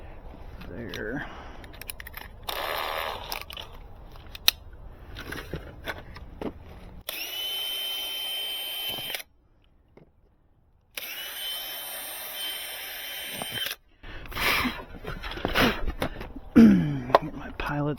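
A power drill whirs in several bursts while drilling pilot holes for a fiber-optic house box, starting and stopping, with pauses and handling noises between runs, close by.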